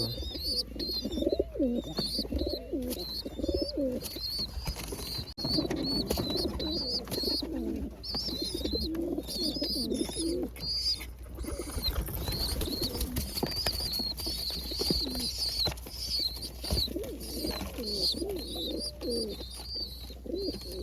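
Pigeons coo steadily while feeding their chicks, a low rolling murmur that repeats through the whole stretch, with faint chirps and rustling over it.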